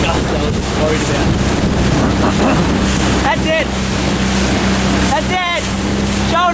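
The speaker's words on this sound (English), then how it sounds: "The gust I was worried about." Strong wind buffets the microphone while sailing a 29er dinghy on open water, a loud, constant roar with water rushing beneath, and voices calling out briefly over it.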